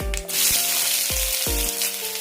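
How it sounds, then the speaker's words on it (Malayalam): Chopped onions drop into hot oil right after mustard seeds have popped, while a brinjal masala is being cooked: a loud, steady sizzle with a few sharp crackling pops, no speech. "കടുക് പൊട്ടിക്കഴിയുമ്പോൾ സവാള ഇടാം"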